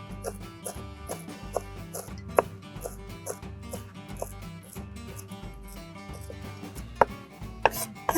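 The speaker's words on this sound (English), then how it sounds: "I'm going to add a nice good bunch of parsley, which I'm just going to roughly chop" A knife roughly chops a bunch of parsley on a board, a quick run of crisp, regular taps close by, with a steady tonal background sound underneath.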